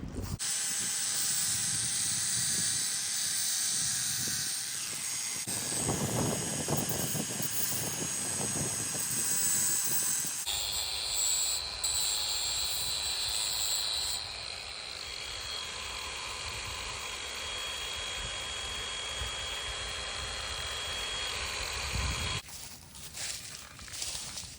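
A grinding wheel smooths the sharp, freshly cut edges of metal pieces for a homemade creep feeder, producing a sustained high-pitched whine that shifts in pitch and intensity as the metal is pressed against it, with no talking.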